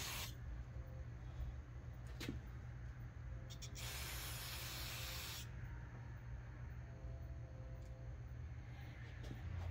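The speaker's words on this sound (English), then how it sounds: "spray a little in here and clean this out" Carburetor cleaner sprays steadily from an aerosol can for about a second and a half, hissing over a low background hum, with a few short sharp clicks around it.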